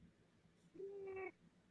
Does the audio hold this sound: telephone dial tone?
no